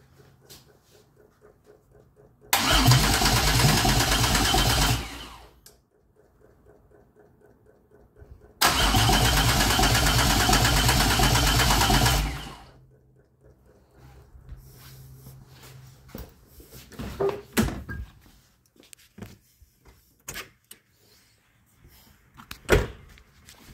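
A 2004 Pontiac Grand Am engine cranks without starting in two long, loud bursts of a few seconds each, separated by quiet, followed by faint clicks and small knocks.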